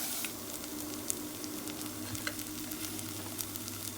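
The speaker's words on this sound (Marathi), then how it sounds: "बारीक कातर टमाट. आनी बरें मिक्स करून मातशें भाजया घाता" Finely chopped tomatoes frying in a pan for a Goan clam shell curry, giving a steady, soft sizzle with a few faint stirring clicks, fairly quiet and with no talking.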